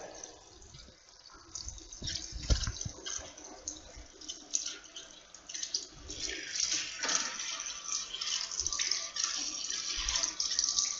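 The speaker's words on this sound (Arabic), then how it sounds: "ثم نقوم بفتح الحنفيه لجهه الماء الساخن" Water gushes steadily from a hot-water tap fitted with an instant water heater, a continuous hiss and splash with occasional clatter, close and moderately loud throughout.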